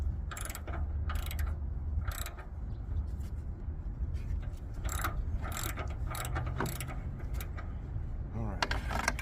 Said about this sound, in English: so I got my ratchet. Let's go ahead and get it out the rest of the way.